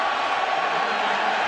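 Crowd at a college football stadium during an Iowa Hawkeyes against Iowa State Cyclones game, a dense continuous wash of shouting voices, steady and fairly loud across the short moment.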